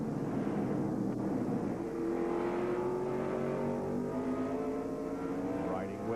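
NASCAR stock cars racing at the 1996 Tyson Holly Farms 400, a continuous engine drone with rising and falling pitches as cars pass, moderately distant under crowd and track noise.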